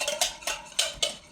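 A room-temperature egg with a pinch of salt is whisked briskly in a bowl, giving four quick, even scraping strokes close by with no talking.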